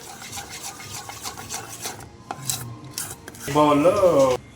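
A spoon scrapes and swirls through thick cake batter in a bowl with a repeated raspy rhythm, then a brief louder clatter near the end.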